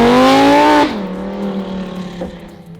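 Car fitted with Valvetronic exhaust headers revving hard, a loud rising engine roar that cuts off abruptly, then settles into a lower, rumbling idle with a brief crackle near the end.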